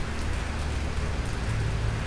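Rain falling outdoors as a steady, dense hiss of drops spattering on surfaces, loud and continuous throughout with no voices.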